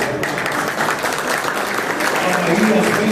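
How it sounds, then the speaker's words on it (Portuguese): A crowd at a Brazilian bakery awards ceremony applauds the winning bakeries, sustained even clapping across the whole stretch with a faint voice or tone surfacing near the end. "Vamos aplaudir a todos."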